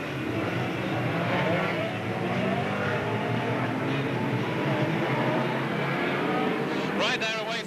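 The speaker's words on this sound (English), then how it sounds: "just look at this pace as the feet go down hard on the loud pedal and they roar into action all the way around" Some 32 stock cars at a Brisca F1 Stox race in Northampton accelerate away together at a restart, a dense, loud, continuous engine roar with a commentator talking over it throughout.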